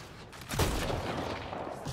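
Rapid gunfire volleys from a third-person sci-fi shooter, Mass Effect Andromeda, rattle continuously and loudly with a sharp burst near the start, no voices over it.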